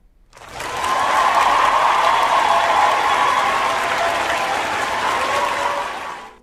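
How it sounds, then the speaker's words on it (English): A live podcast audience breaks into applause that swells quickly from quiet, holds as a full, steady roar of clapping for several seconds, then tapers off, with no speech over it. "Mammy, get a round of applause."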